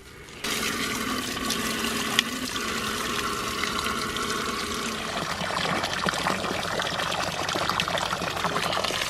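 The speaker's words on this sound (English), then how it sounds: "I need to go fill it with water" A garden hose gushes water into a garden fountain, a steady, loud splashing pour that starts abruptly and continues without pause, with no voices over it.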